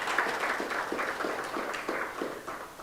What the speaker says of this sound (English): I'm going to ask us all to give the panel a very big round of applause for their presentations